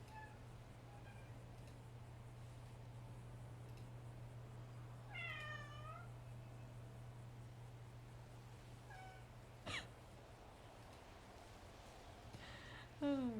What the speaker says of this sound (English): I'll let you guys hear the cats.